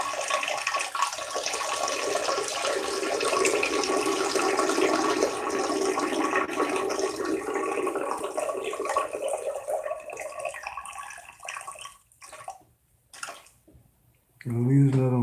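Water rushes down a drain in a loud, steady gushing flow that fades after about ten seconds, followed by scattered gurgles and a final burst of sound.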